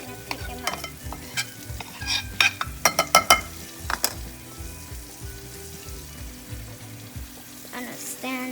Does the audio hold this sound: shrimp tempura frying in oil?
yes